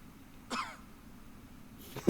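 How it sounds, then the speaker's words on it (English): A single cough in the background of an Avatar: The Last Airbender episode, short, raspy and fairly distant, with a fainter throat sound near the end and no speech. "I love the cough in the background."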